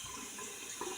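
Water runs from a tap to wet a small synthetic-knot shaving brush with a brass and chrome handle, a soft, steady, fairly faint trickle heard alone.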